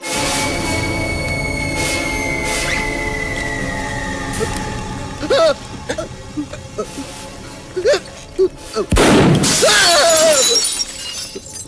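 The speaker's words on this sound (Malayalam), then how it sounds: "വെടികൊണ്ട് ഗ്ലാസ് എല്ലാം പൊട്ടിയല്ലോ" In a Malayalam comedy film scene, a gunshot shatters glass in a single loud, close crash near the end, after a steady hum with a few faint knocks.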